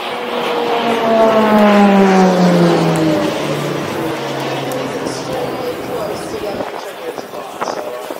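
A RAAF Roulettes display aircraft sweeps past at an air show, its propeller engine rising loud then falling in pitch as it recedes, with people talking over the fading drone.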